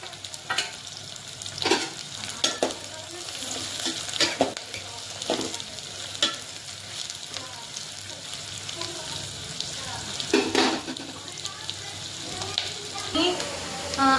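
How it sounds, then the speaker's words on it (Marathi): Onions fry and sizzle in oil in a pot for biryani, a continuous close crackle with repeated knocks and scrapes of a stirring spoon. "तर इथे तेलामध्ये मी पहिल्यांदा कांदा भाजून घेणार आहे लालसर असा"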